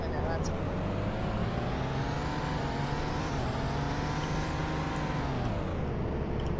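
Car driving in the Roblox game Greenville at a modest speed, a steady engine drone with shifting pitch running throughout, loud and close, with no pauses.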